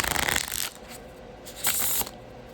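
A mini gilded tarot deck is shuffled close by, with a riffling burst at the start, a quieter stretch, then a second short rustling flurry of cards.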